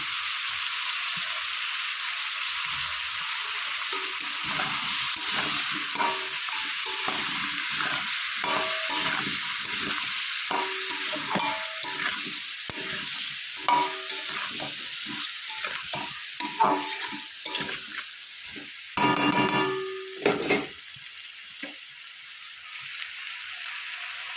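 Turmeric and salt fry in hot oil in a pan with a continuous hiss and crackle, while a spatula stirs and scrapes in irregular clattering strokes, close by and without any talking.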